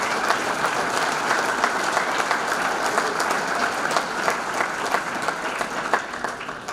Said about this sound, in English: Please give all 15 of these patron sponsors a big round of applause.